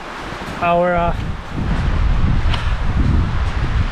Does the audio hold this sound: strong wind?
yes